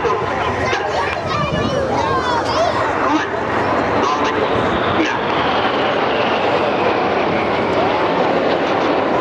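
Red Arrows jets flying the Whirlwind manoeuvre at a seaside air show, a broad distant roar of aircraft engines sustained throughout, with a commentator talking over it.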